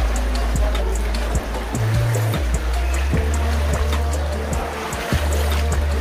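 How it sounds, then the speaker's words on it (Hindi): Water streaming down from the hills at Guchhupani makes a constant broad rushing wash, dotted with faint irregular clicks and splashes, moderately loud and close, with no voices. "देखो देखो पहाड़ों से पानी आ रहा है कितना"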